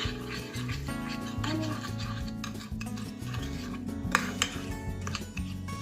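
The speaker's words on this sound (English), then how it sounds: "we're gonna mix it out" Cinnamon roll dough being mixed in a bowl, giving repeated scraping and clinking knocks of a utensil against the bowl in an uneven rhythm, close and moderately quiet.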